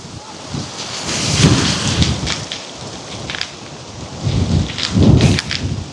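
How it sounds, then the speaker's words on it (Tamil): Strong gusty wind blowing outdoors at Kataragama, near a well, roaring and buffeting the microphone with loud surges near the start and again toward the end, and no talk over it. "சரியான மாதிரி காற்று அடிக்குது"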